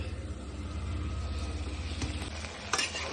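Chopped tomatoes and curry leaves frying in a pan for a sweetcorn snack, a soft steady sizzle with a faint rhythmic pulse and a brief clatter near the end.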